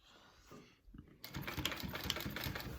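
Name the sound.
sewing machine stitching a bag's final seam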